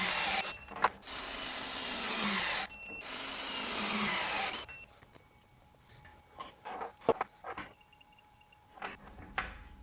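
A FLEX FX1471 high-torque cordless impact wrench hammers in two long, loud, steady runs separated by a brief pause, followed by scattered sharp clicks and clanks of handling up close.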